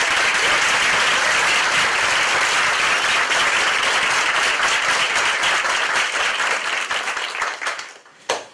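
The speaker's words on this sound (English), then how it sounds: "I just think we have to give her a big round of applause for all her" A gallery audience applauds at an exhibit opening, with dense, steady clapping that holds loud for about seven seconds before thinning out and fading, followed by one last brief burst.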